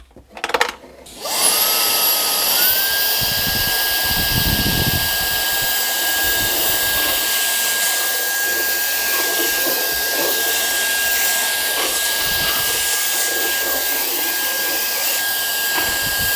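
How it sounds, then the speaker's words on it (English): A Brigii H5 140W handheld vacuum whirs steadily with a high, constant motor whine, starting up after a brief click and running continuously without pause. "showing you this little handheld vacuum cleaner"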